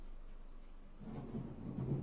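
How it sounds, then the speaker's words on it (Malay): Distant thunder rolls in low and soft during a rainy spell, a faint rumble that swells over the second half with no voices present. "Siapa yang dengar bunyi guruh tadi?"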